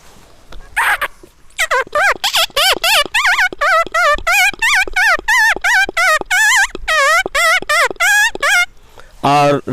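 A man mimics a small female dog with a rapid run of short, high, yelping barks, loud and close, ending in a brief whine-like call.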